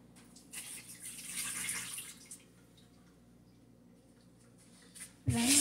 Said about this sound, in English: Now, strain all the water out.